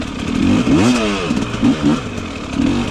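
A KOVI 300 Pro 2T two-stroke enduro motorcycle engine, rated at 56 horsepower, revs up and down in loud, close blips, with a sharp rising sweep near the start and shorter throttle bursts after it.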